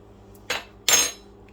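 A spoon knocking against a bowl while stirring pasta salad, two short sharp clinks about a third of a second apart, close and fairly loud, with silence around them.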